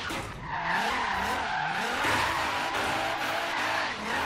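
A slammed JDM Nissan 240SX drift build in Forza Horizon 3 slides sideways, its tires skidding and squealing continuously over the engine note for the whole stretch, loud and close.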